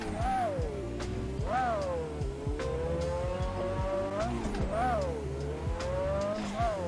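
Stanced drift car with a roughly 700-horsepower engine on full boost, revving in rising and falling sweeps through the gears with loud, continuous engine tone and tire noise close by.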